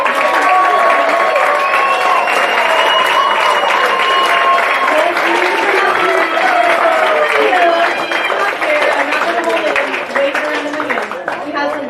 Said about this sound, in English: round of applause for Kelly and Jason